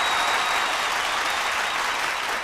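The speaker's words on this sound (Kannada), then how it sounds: "ಬಲಿದ ಚಪ್ಪಾಳೆ." An audience applauds after a dance performance on a comedy stage show, a dense, loud, continuous burst of clapping from a large crowd, steady throughout.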